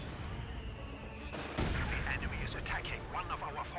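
A heavy machine gun fires from a bunker set into a cliff in Company of Heroes, a burst of rapid shots starting partway through amid battle noise, with a voice talking over it.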